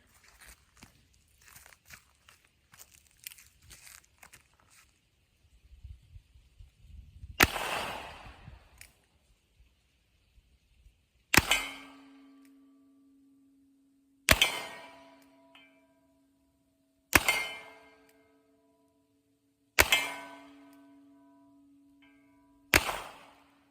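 A muzzleloader fires outdoors with homemade percussion caps, loaded with loose powder and ball. After an earlier shot, five sharp, loud reports follow, each a few seconds apart, each ringing briefly before fading into quiet.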